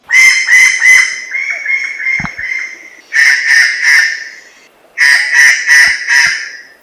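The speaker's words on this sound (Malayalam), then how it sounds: "ഇര തേടുമ്പോഴും മറ്റും പക്ഷി പുറപ്പെടുവിക്കുന്നത് ശകാരം പോലുള്ള ക്ര എന്നോ കിറ്റ് കിറ്റ് കിറ്റ് എന്നോ ക്വാങ് ക്വാങ് എന്നോ കുക്ക് കുക്ക് ക്ര എന്നൊക്കെയുള്ള ശബ്ദമാണ്" A white-bellied treepie gives loud, harsh, grating calls close by in three bursts of rapid repeated notes, with short quiet gaps between them.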